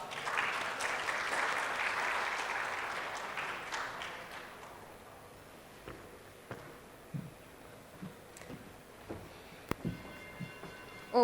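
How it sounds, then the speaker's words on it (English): Audience at a securitisation summit giving panelists a round of applause, a dense burst of clapping for about four seconds that fades into a quieter room with scattered knocks and shuffling. "Please join me in welcoming the panelists on the stage with a huge round of applause"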